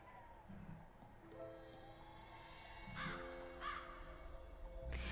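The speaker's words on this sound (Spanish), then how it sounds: "los cuervos nos delatan" Crows cawing in the video game Saint Kotar, several harsh caws near the end over a faint eerie ambient background with low tones.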